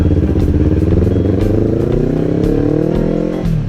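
A Honda CB motorcycle rides close by, its engine giving a loud, steady, throbbing drone whose pitch rises and falls slightly as it passes on a street.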